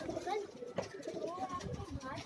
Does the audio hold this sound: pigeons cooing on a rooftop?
yes